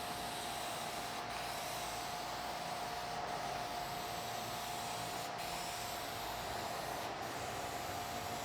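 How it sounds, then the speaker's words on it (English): Aerosol spray cans hiss steadily as a car fender is painted, a continuous near spray with brief pauses between overlapping passes and a faint tone running under it. "we'll go ahead and spray the bulk of the fender."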